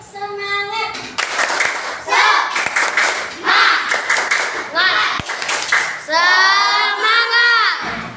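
Schoolchildren in an Indonesian classroom performing a rhythmic spirit clap, sharp patterned claps alternating with their chanting voices, close and loud.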